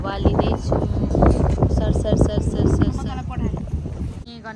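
A Jordan ferry in Hong Kong cruises across the harbour, engine rumble and wind rushing past the microphone beneath a voice talking nearby, fading slightly toward the end.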